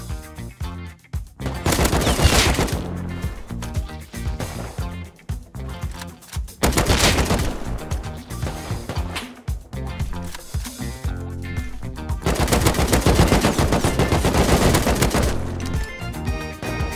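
Rapid bursts of AK rifle fire in a survival shooter game, loud and close, coming in several long sustained volleys separated by short pauses, with no talking over them.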